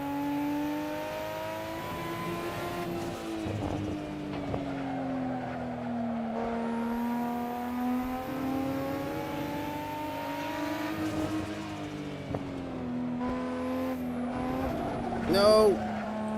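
Car engine revving through gears on the Nurburgring in the racing game Assetto Corsa, a steady buzzing engine tone that climbs and drops with each shift, with brief tire noise near the end and a voice talking over it.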